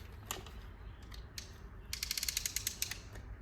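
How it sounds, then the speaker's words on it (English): A 1988 Chevrolet Corvette parking brake lever is pulled up, giving a few scattered clicks and then a quick, close run of sharp ratchet clicks. "It ratchets it and pulls it up like it's supposed to."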